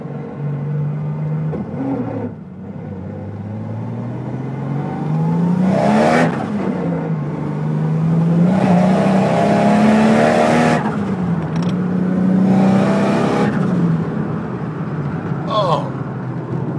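A Nissan S14 with a turbocharged RB30DET engine revs out under about 14 pounds of boost, heard from inside the car through several gear pulls with rising engine pitch and brief shift breaks, while someone talks over it.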